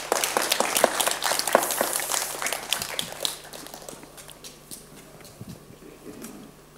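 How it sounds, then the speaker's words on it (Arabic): Applause from a studio audience on a special episode of a children's TV show, a dense patter of clapping that starts loud and gradually thins out, with voices faintly underneath. "صفقوا على بلال."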